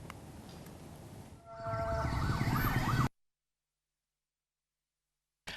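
An ambulance siren wails in rising and falling sweeps on a damaged village road, loud and close over engine and road noise, then cuts to silence.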